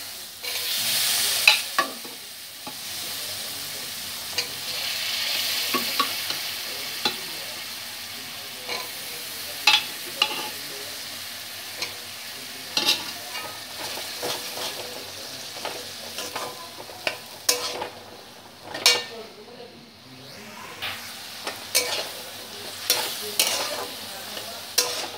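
Chickpeas stirred and fried with ground spices in a pan for Punjabi-style chana masala, a steady low sizzle under frequent scraping and clacking of a spatula, close by and continuing for the whole stretch.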